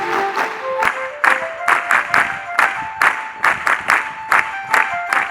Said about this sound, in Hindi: हम 3 ताली वादन से साथ में जुड़ेंगे।